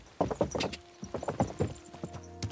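Hoofbeats from a horse in the medieval game Kingdom Come Deliverance 2, a run of loud, close clip-clop strikes in a steady rhythm alongside thumps and a low continuous tone.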